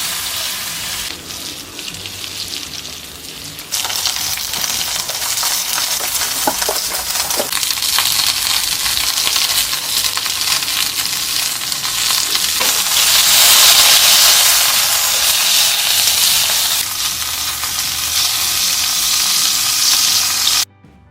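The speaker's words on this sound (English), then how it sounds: "we're going to chuck those onto the skillet and get them to be a nice crispy texture on the outside" Vegetables seasoned with kosher salt, black pepper, olive oil and balsamic vinegar crisp on a hot skillet, giving a loud, continuous close-up sizzle that swells briefly and then cuts off at the end.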